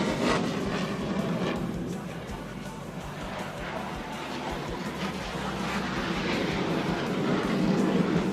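A fighter jet performs high-G manoeuvres at an Indonesian military air show, heard as a broad, sustained jet roar that swells and fades slightly, with a faint announcer in the background.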